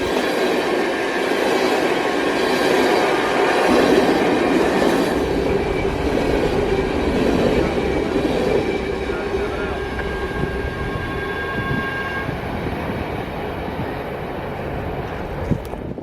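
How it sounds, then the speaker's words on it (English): An empty coal train led by two 1990s-era AC4400 locomotives rolls past loud and close, a steady rumble with wheel clatter and faint squeal that eases slightly toward the end, with a voice briefly audible. "It's always nice to see two 1990s era AC 4400s leading a coal train"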